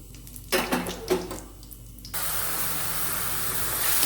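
Onion paste hitting hot oil in a pan for parotta salna, a few clattering knocks followed by a sudden, steady loud sizzle that continues and swells slightly toward the end.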